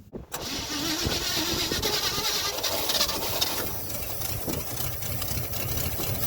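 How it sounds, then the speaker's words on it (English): A 1957 Chevy engine with a freshly rebuilt carburetor starts up and settles into a loud, steady idle with a rough rumbling pulse, close by, in winter. "I've never started an engine with a manual choke in the winter before"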